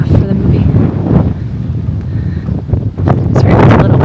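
Outdoors at Bella Swan's house, a Twilight filming location, gusty wind buffets the microphone with loud low rumbling and roaring that swells and dips across the few seconds, with a voice speaking faintly underneath.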